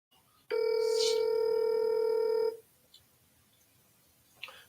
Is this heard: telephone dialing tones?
yes